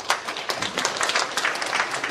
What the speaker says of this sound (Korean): 우리 인천 중국계 장로님들 한번 박수 한번 해드리겠습니다.